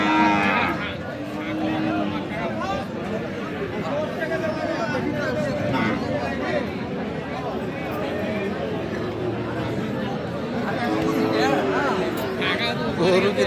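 Sahiwal cattle low and moo at a crowded cattle market, their calls rising over constant chatter and nearby talking.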